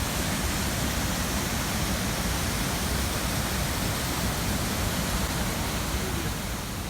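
Whatcom Falls, a massive waterfall in a wooded Bellingham park, roars as a loud, dense, unbroken rush of water that fills the whole scene evenly from start to finish.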